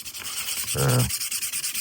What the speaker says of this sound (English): Now I'm just using sanding paper to remove